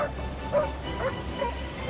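Hunting hounds yelping and baying in short, repeated bursts during a fox hunt, with a faint steady background murmur between the calls.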